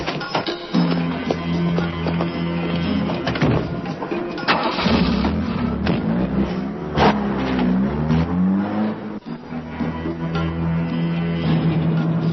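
A car engine cranks and catches, then idles and revs with a steady mid-pitched rumble. It is loud and close throughout, with no speech over it.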